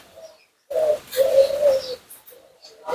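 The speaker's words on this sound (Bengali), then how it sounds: "এর পাশে এখানে আছে পায়রা, শান্তির প্রতীক পায়রা" Pigeons cooing close by, a few soft throaty coos in short bursts separated by quiet gaps.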